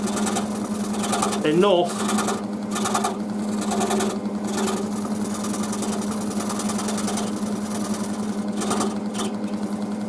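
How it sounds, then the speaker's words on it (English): A scroll saw nibbles through a wooden workpiece with a fast, steady buzzing chatter that runs throughout, while a person talks over it. "just take your saw, just take the blade and nibble away"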